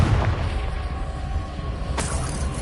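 A Confringo blasting curse explodes in Hogwarts Legacy, a booming burst with a sharp crack near the end over a low rumbling game background.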